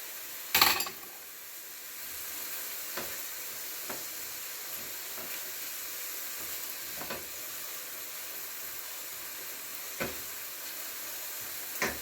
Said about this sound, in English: I'm going to let this saute for at least 1 or 2 minutes